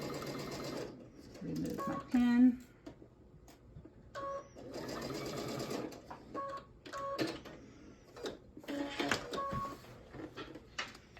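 A sewing machine stitches quilt pieces together while easing in a seam, running in several short bursts with pauses between them; a voice speaks briefly in between.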